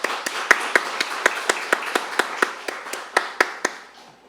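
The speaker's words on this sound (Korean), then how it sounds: "큰 박수 부탁드리겠습니다." Applause at a policy forum on a rare women's liver disease, heard as a small room's sparse, crisp individual claps in a steady rhythm, roughly a dozen distinct hits fading out after about four seconds.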